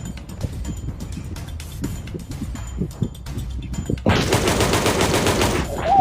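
Rapid gunfire from the video game Melon Playground crackles in quick bursts for several seconds, then gives way to a dense, loud continuous roar of sustained shooting near the end, with no talk.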